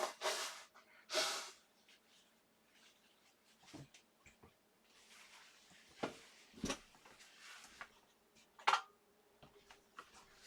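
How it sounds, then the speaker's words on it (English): Faint, close nose blowing: a couple of short breathy honks into a tissue, then quieter sniffs and rustling in a mostly quiet room. "Sorry, I have to blow my nose real quick."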